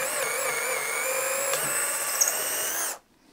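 A Festool CXS cordless drill with a 7/32 inch bit whines at a steady high pitch as it bores through wood slightly larger than a 2x4 for about three seconds, then cuts off abruptly to near silence.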